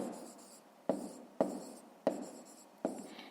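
A pen writes an inequality by hand on paper in a fifth-grade maths lesson, giving soft scratchy strokes broken by four distinct taps at a steady pace, close and quiet, with no voices.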